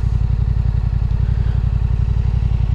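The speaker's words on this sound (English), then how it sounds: "So, this is my bike, a Yamaha T7" A Yamaha Tenere 700 motorcycle engine with the catalytic converter still fitted and no baffle idles close by with a loud, steady, rhythmic thumping pulse and no talk.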